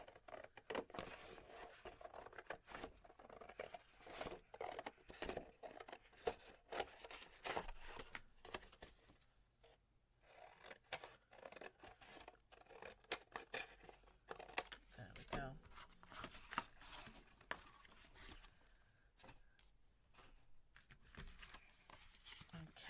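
Scissors snipping around a folded paper card piece for a handmade flip flap album, with quiet crinkling and rustling of paper in bursts, a short pause midway, then more cutting close by.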